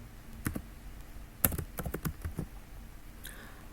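Code being typed on a computer keyboard, with quick irregular key clicks in short bursts, close and clear against a quiet background.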